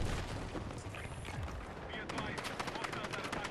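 Gunfire from an enemy player in the Battlefield 6 beta crackles as dense bursts of rapid shots, building louder in the second half over continuous game noise.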